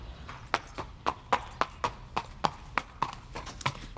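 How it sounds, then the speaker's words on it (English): Horse hooves clip-clop in a steady, regular walking rhythm, about a dozen sharp hoof strikes spread evenly through the clip at moderate distance, with no talking over them. "It's a horse."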